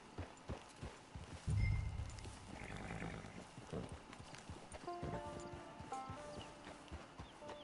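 Horse hooves clip-clop on a dirt trail in the Red Dead Redemption 2 video game, walking at a steady gait, close by amid ambient game sounds, with a snort or thump of movement partway through.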